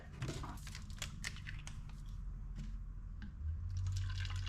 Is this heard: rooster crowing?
no